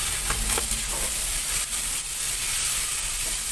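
Carrots tipped into a hot frying pan for a sotanghon lumpia filling, giving a steady, close sizzle and hiss with faint stirring scrapes throughout.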